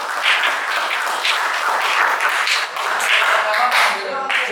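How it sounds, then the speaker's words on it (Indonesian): Classroom applause for a student group in a mathematics lesson: a continuous patter of many hands clapping, steady and fairly loud, with voices talking faintly alongside toward the end. "Tepuk tangan untuk kelompok."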